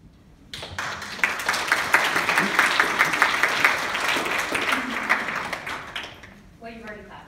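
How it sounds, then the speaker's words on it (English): An audience gives a panel discussion a sustained round of applause, loud dense clapping that swells, holds for several seconds and tapers off before a voice begins. "you've already clapped"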